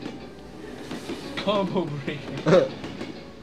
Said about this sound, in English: My first enemy is the train.